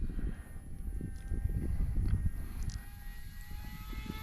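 An OMP Hobby T720 RC airplane flies outdoors, its motor a steady low drone that swells and eases over a few seconds, fairly close and uninterrupted by speech.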